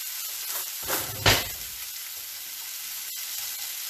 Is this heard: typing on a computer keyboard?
no